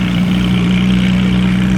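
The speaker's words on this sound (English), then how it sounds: "There's an Evo over there that is just making all the right noises." A Mitsubishi Evo idles at a Cars and Coffee meet, its engine giving a steady, close, continuous low hum with no pauses and no talking over it.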